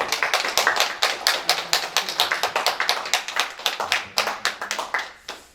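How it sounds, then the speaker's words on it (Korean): A small church congregation claps in welcome during a Sunday service, an uneven, rapid patter of hands at moderate volume, continuing steadily and thinning slightly toward the end. "여러분 마음을 담아서 감사의 마음, 환영의 마음 뜨거운 박수로 환영합니다."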